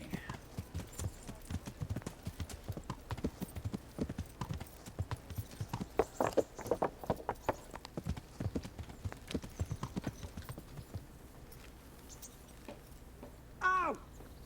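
Horse hooves clip-clop in the Kingdom Come: Deliverance video game, a quick, uneven run of close hoofbeats that slows and thins toward the end, with a brief whinny-like sound near the close.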